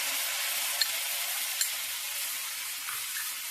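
Poppy seed spice paste with rice and brain-shaped melon seed goes into hot oil and sizzles steadily, a close, even hiss with a couple of faint pops.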